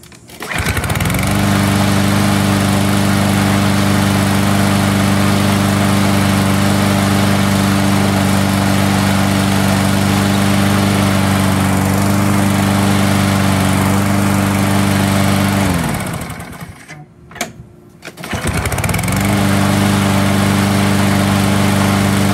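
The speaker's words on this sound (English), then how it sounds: "Electric start to manual start conversion on this Yardworks self-propelled mower with a Briggs and Stratton 725 series engine." A Yardworks self-propelled mower with a Briggs and Stratton 725 series engine runs loud and close with a steady droning hum, cuts out briefly near the end, then roars back to a steady run.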